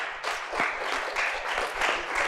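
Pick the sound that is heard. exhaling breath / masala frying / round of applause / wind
round of applause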